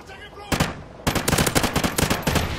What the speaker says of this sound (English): Who is this fool shooting at this tree lead.